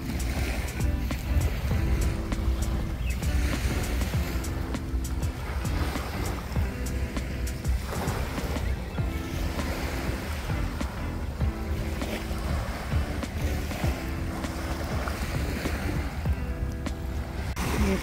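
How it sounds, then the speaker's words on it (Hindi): Quiet waves wash in and out along Al Heera Beach in Sharjah, with a low steady hum running underneath. "पानी की आवाज़ कितनी अच्छी लगती है"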